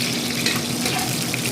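Onion pre-cooking in hot cooking oil over low fire for beef steak Tagalog, giving a steady, close, continuous sizzle and crackle with no talk.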